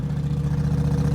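A Ducati V4 Diavel fitted with a full Akrapovic exhaust idles nearby, a deep, steady low rumble with a slightly lumpy pulse throughout, heard alone.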